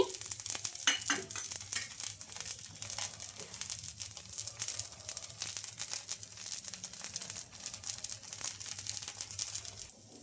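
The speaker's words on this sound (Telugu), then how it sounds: "ఇంకా దోశ కొంచెం బాగా ఫ్రై అయిన తర్వాత అయితే కొంచెం ఆయిల్ అయితే వేసుకోవాలండి" A rice flour dosa fries with oil on a pan, giving a steady, fairly quiet crackling sizzle with fine popping. Crinkly, scratchy handling noises rise and fall throughout.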